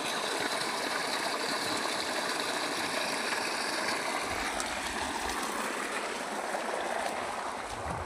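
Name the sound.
irrigation water flowing into castor field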